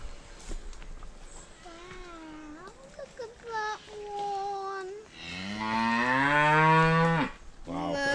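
A large cow in a field on a walk near Conwy lets out a loud, drawn-out moo close by, after quieter calls and a person's voice over outdoor background noise.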